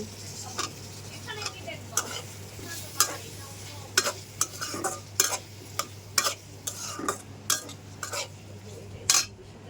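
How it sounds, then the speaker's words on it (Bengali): Jackfruit seeds go into a pan with taro stolons and are stirred. A spoon scrapes and knocks sharply against the metal at irregular intervals over a soft frying sizzle and a low steady hum. "কাঁঠালের বিচি দিয়ে দিচ্ছি।"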